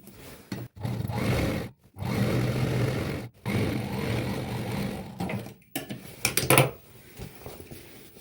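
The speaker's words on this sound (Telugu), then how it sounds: "ఇప్పుడు దీని పక్క నుంచి ఒక ఇంచ్ గ్యాప్లో ఇంకొక స్టిచ్ వేసుకుందాం" A sewing machine stitches a gathered petticoat in a quiet room, running in several short bursts separated by brief stops, fairly faint, with a few light clicks and taps near the end.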